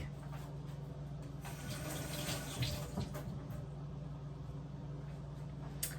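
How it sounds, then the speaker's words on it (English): Fresh ginger rinsed under a running sink tap, a steady close stream of water splashing, rising briefly a little louder in the middle with a few spatters, continuous with no voices. "I'm going to go ahead and rinse it in the sink."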